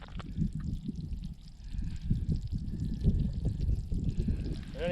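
Water sloshes and trickles around a freshly drilled ice-fishing hole on Lower Sunshine Reservoir in late season, surface water on the ice gurgling and splashing close by in uneven bursts.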